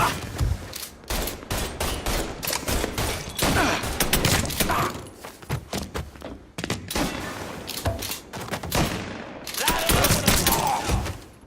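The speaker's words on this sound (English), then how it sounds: "got us a gunfight" Dense gunfire rattles through a gunfight in the video game Mafia 3, with rapid bursts and volleys of shots, some like automatic weapons, loud and nearly continuous with short lulls.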